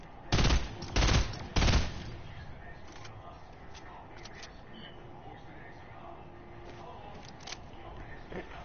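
Three loud bursts of automatic gunfire from the video game Fortnite crack close together early on, followed by fainter scattered shots in the background.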